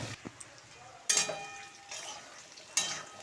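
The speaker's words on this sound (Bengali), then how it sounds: "পটলগুলোকে লাল করে ভেজে নেব" Pointed gourds frying in oil, heard as a faint low sizzle broken by a few sharp bursts of stirring and pan scrapes, with no voices.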